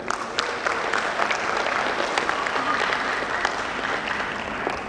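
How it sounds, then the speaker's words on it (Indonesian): An audience at a university graduation ceremony applauds the women graduates with steady, moderately distant clapping that continues throughout, sounding like a large hall full of hands. "Tepuk tangan untuk perempuan."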